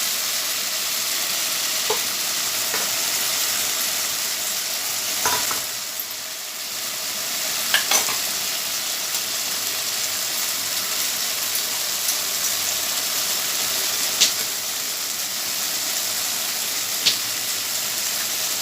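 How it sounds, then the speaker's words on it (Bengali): Potatoes frying in a spice paste in a pan, giving a steady, even sizzling hiss throughout with a few faint clinks and scrapes, no voices. "মশলাটাকে এখন কষানো হবে, তারপর মশলার মধ্যে আলু দিয়ে দেওয়া হবে।"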